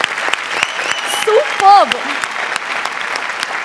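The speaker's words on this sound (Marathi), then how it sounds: "जोरदार टाळ्या झाल्याच पाहिजेत" Loud applause from a small comedy-sketch audience, a steady dense clapping wash running through the whole moment while someone speaks over it with brief exclamations.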